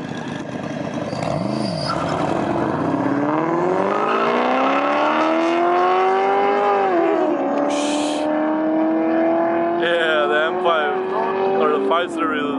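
A turbocharged BMW 340i races a 2500 hp Dodge Viper, one engine climbing in a long rising roar through the gears, loud and close, with a shift near the middle and people talking over it.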